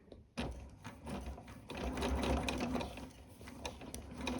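A sewing machine runs steadily while stitching around the inside hem of a V-neck princess-line dress, its mechanical whirr starting abruptly and continuing close and fairly loud with a rhythmic needle chatter.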